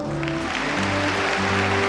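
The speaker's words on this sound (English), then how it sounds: "A great round of applause for her in the hall." A hall audience at the 1975 Miss World pageant applauds a contestant, a steady, fairly distant wash of clapping under sustained music tones.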